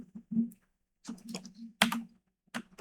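Typing on a computer keyboard while entering HTML table code, four short clusters of close, crisp key clicks with brief pauses between them.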